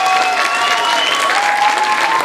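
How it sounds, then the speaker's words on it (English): An audience at a middle school band concert claps loudly and continuously, a dense wash of applause filling the room with no break. "Let's give another round of applause to our band."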